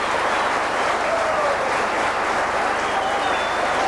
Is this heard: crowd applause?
yes